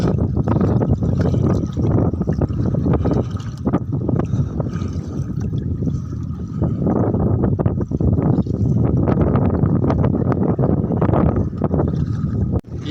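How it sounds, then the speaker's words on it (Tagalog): Strong wind and waves buffet a small fishing boat with a broken-down engine near a fish pond, a steady loud roar of gusting wind and water slapping the hull throughout, with no clear voices. "Ito yung mabigat pagka ganitong kalalakas ang alon tsaka hangin."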